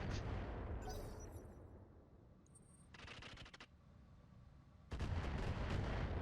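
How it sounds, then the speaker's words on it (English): Missile salvos launching and bursting in RogueTech BattleTech, a modded mech combat game: heavy booming blasts, crackling impacts around three seconds, then a loud sustained barrage of explosions at the end. "Okay, it's 4 missiles, that's fine."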